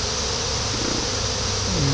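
A large swarm of bees drones in a dense, continuous buzz around hive boxes, loud and close for the whole stretch, with no voices over it.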